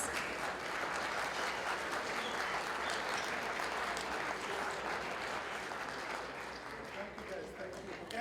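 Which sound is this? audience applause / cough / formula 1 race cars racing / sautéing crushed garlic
audience applause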